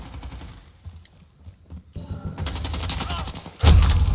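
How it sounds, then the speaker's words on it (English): Gunfire in Call of Duty Modern Warfare, hardcore Kill Confirmed on the Piccadilly map, with scattered quiet shots early, then sustained rapid firing and a loud close burst at the end. "somebody's shooting at me, but I can't see them"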